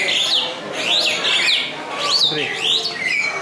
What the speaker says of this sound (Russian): Вот птичка.